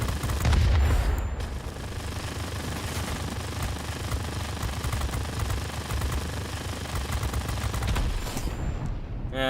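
Aircraft guns fire in World of Warplanes, dense continuous rattling bursts over a droning engine for nearly ten seconds, loud and close, fading out at the very end.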